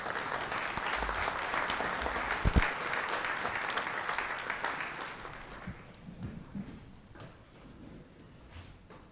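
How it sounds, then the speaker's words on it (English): An audience at an annual town meeting in Norfolk applauds Troop 80, a broad, dense roar of clapping that holds steady and then thins out and fades toward the end, with a few louder knocks partway through. "Round of applause for Troop 80, please."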